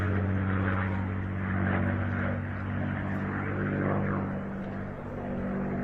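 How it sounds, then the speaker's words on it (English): A Merlin-engined warplane making a ground-attack pass at the Hill AFB air show, its deep propeller drone loud and steady, swelling and easing slightly as it moves, with no talk. "there's the sound, the music of the Merlin engine"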